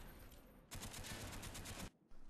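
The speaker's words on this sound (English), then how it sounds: "just kind of shoot at it, pop fire at it like I'm doing here" Rapid burst of automatic gunfire aimed at a sentry gun in the video game Call of Duty: Black Ops, lasting just over a second at a moderate level before cutting off abruptly.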